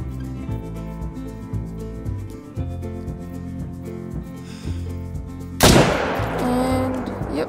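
A single sharp rifle shot cracks out in theHunter: Call of the Wild as a deer is targeted, loud and sudden, breaking a steady rhythmic musical backdrop and trailing into a noisy echoing tail.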